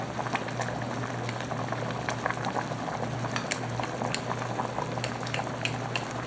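A pot of broth for peach cobbler bubbles at a steady rolling boil, close and continuous, with dense popping and gurgling and a low hum underneath.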